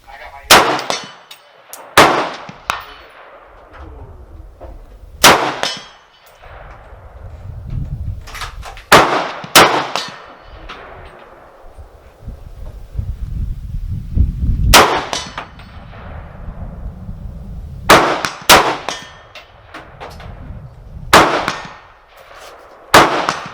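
Shots from a Ruger Mini-30 rifle ringing off pistol steel targets at a range: about ten sharp, loud reports spaced irregularly, each followed by a metallic clang and a decaying echo.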